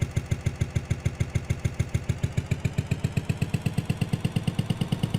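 Basic motorcycle engine in the Indonesian life-simulator game OJOL Life Simulator, idling with a steady, rapid, even putter of regular pulses, close and fairly loud, alone without any voices.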